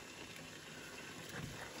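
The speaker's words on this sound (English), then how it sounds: "you can hear it, it's sizzling" Taco soup with mexicorn sizzles and bubbles steadily in a pot on the stove, a low continuous frying hiss heard close up with no talking.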